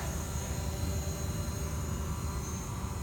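A DJI Mavic Pro drone climbs upward, its propellers giving off a steady, even whine and whir that holds constant throughout, with no talking.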